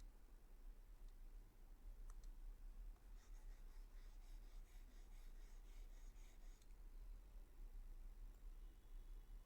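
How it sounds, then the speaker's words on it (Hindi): Marker or chalk writing on a board during a biology lesson, a steady faint scratching stroke pattern over a low background hum, with a brief burst of quicker strokes in the middle and no one speaking. "अब हम इस चीज़ को यहाँ लिख लेते हैं"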